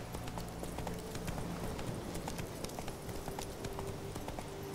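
Roach the horse's hooves clip-clop steadily in Witcher 3, a continuous even trotting rhythm heard alone at moderate volume.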